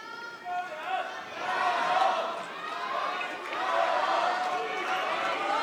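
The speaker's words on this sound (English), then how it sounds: "the crowd getting into it" Spectators at a men's World Cup table tennis quarterfinal cheer and applaud in a sustained swell of crowd noise that rises and stays loud throughout.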